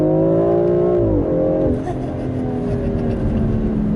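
Engine of a 2021 BMW X4M sports SUV in Sport Plus mode, a loud close rev whose tone climbs, then drops sharply and settles into a steady rumbling drone.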